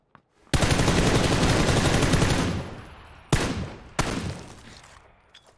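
Sustained automatic gunfire rattles for about two seconds in an online shooter game, then two sharper single bursts follow with decaying echoes, loud and close with no talk.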